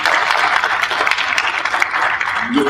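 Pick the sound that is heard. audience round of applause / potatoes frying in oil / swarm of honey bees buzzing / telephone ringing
audience round of applause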